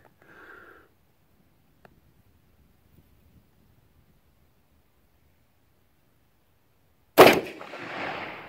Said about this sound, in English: Appears to shoot pretty good.